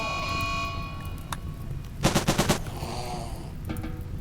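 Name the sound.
gunfire in the video game Rimworld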